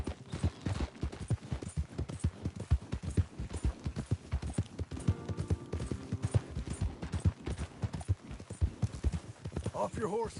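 Horse hooves clip-clopping in the video game Red Dead Redemption, a steady rapid rhythm of close hoofbeats throughout, with faint ambient tones.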